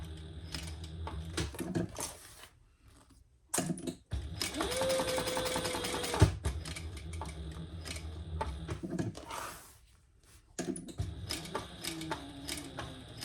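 A home sewing machine stitches fabric in short bursts, with rapid mechanical whirring broken by pauses, handling clicks and one brief squeak, close and fairly loud with no talk.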